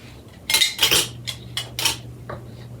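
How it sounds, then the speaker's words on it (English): Metal canning rack set into a pressure canner, a handful of sharp clanks and rattles of metal on metal in quick succession, close and clear over a low steady hum. "I'm going to get my next rack placed into my canner"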